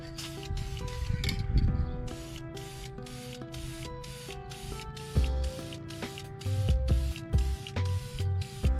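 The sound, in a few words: spray painting brake calipers blue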